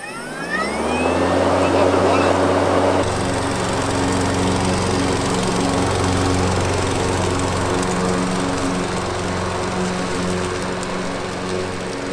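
A SABO commercial lawn mower engine cranks and catches within a few seconds, then runs at a loud, steady close-up idle roar with engine harmonics throughout, and a voice speaks over it.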